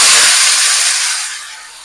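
A loud, steady sizzle of mustard seeds, urad dal, curry leaves and cut plantain hitting hot oil in a pan, close up and gradually easing off, with no talking.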